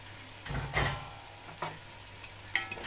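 Half a kilo of washed okra fries in a pan as it is stirred, a low sizzle broken by a few scraping bursts from the spoon, with no talking.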